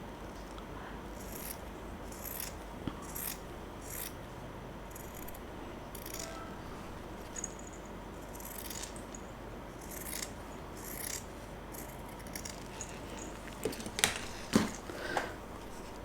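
Scissors snip through fabric for a hair bow in a string of close, crisp cuts spaced a second or so apart, over a low steady background hum.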